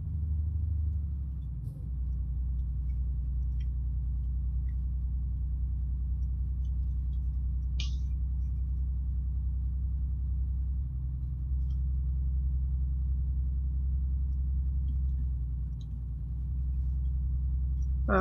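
A truck engine in Euro Truck Simulator 2 drones steadily on the road to Paris with an excavator on the trailer, a continuous low rumble with slight shifts in pitch and a couple of faint clicks and ticks.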